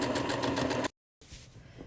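Sewing machine running steadily while stitching a cloth face mask, a close, loud, rapid whirring chatter that cuts off abruptly, then a brief pause before quieter handling noise.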